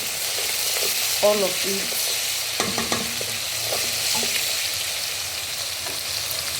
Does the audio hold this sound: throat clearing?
no